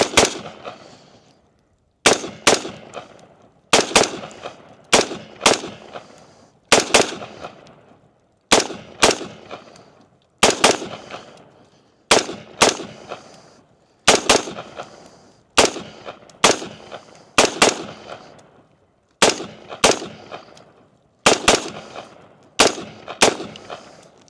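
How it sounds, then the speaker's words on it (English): Rifle shots ring out at a 50-yard outdoor range, fired with Ruag primers: loud, sharp reports arrive singly or in quick pairs at a steady pace, with no talking between them. "I was over there shooting on the 50-yard range"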